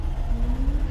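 A McLaren engine fires and idles at Brands Hatch circuit, a steady low rumble with a faintly rising tone, close and fairly loud, with no voices.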